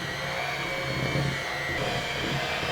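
An electric mixer whirs steadily as it beats cookie dough for stained glass cookies, a continuous close motor drone with a gritty churning texture and no pauses or voices.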